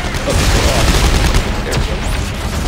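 In a shooter video game, a bomb blast and rapid gunfire fill the moment with a loud, continuous, booming barrage of noise, close and dense throughout.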